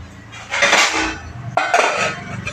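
A metal lid clanks onto a container of moong dal dhokla batter in a home kitchen, two sharp clattering contacts with ringing metallic rattles, close and loud with no talk.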